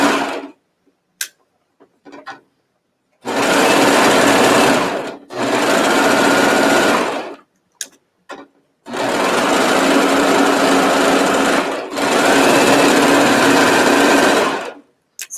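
A serger overlocker stitches pajama pants with woolly poly thread, its motor buzzing loud and steady in several long runs of a few seconds each, broken by short pauses and small clicks.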